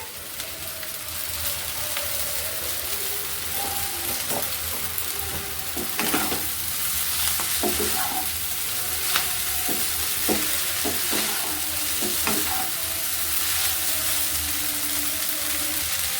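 Oiled boiled pasta fries in a pan with a steady, busy sizzle, while a spatula scrapes and clinks in irregular stirring strokes throughout.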